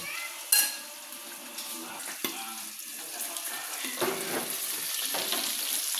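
Ginger sautés in a pan until lightly browned, giving a continuous close sizzle with occasional clinks and scrapes. It plays alone, with no talk.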